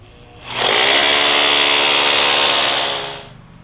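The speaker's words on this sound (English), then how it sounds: "When drilling the hole, you want to drill down 4 inches." A power drill starts up, whines at a steady high pitch for a couple of seconds while boring a hole four inches down into a concrete pool deck, then winds down; loud and close.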